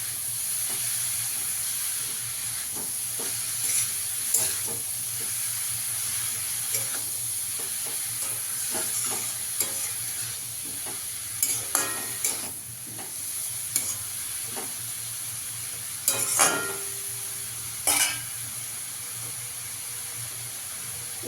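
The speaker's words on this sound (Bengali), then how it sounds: "এবার ভেজে রাখা আলুটা দিয়ে দেবো।" Fried potatoes tipped into a hot pan for a vegetarian dish, with a steady close sizzle and hiss under repeated scraping and clattering as the pieces are stirred.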